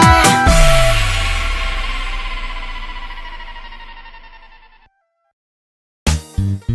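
A telephone ringtone sounds loud and close: a sharp electronic ring strikes, then its tone rings out and slowly fades to silence, and a brief burst of a further ring comes near the end.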